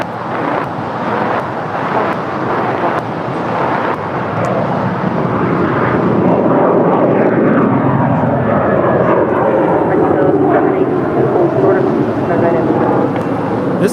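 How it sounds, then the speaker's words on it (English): An eight-year-old American Airlines Airbus A321 departs LAX for JFK, its jet engines roaring in a loud, sustained rumble that builds and holds, with voices talking faintly over it. "This is American Airlines Flight 4 departing to JFK, New York. It's an 8-year-old Airbus A321."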